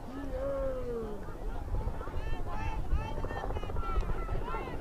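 A helicopter passes over a girls' varsity soccer championship field, giving a low, steady droning rumble mixed with wind buffeting, heard under ongoing commentary.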